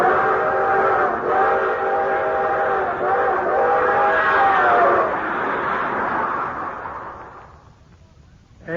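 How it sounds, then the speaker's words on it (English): Long, drawn-out chime whistle of the 20th Century Limited passenger train, a steady multi-tone blast sustained for several seconds before fading away into distant rumble. "One thing he especially liked was the long, drawn-out whistle of the 20th Century Limited as she highballed it through the countryside."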